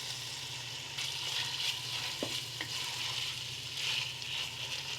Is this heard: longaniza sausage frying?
yes